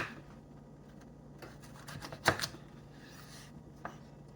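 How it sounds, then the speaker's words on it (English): Carrots are cut with a sharp knife on a board, a few quiet, separate chopping taps with one sharper cut in the middle, heard close against a soft background hum. "Just be careful with a sharp knife. And you cut them in half again."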